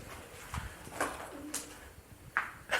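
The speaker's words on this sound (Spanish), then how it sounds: "Y de palomas también. Las estoy escuchando." Pigeons coo intermittently inside an abandoned house, several soft, short calls spaced apart against a quiet, hollow background.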